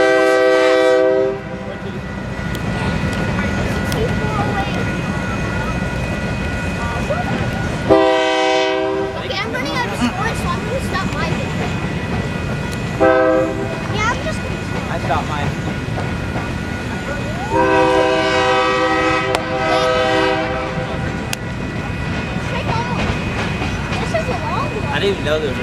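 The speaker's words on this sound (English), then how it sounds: "This train probably won't be gone until like 3 minutes." A Union Pacific grain freight train with an SP patch passes at Stockton, California, sounding repeated loud horn blasts over the steady rumble and rattle of the cars, with people talking nearby.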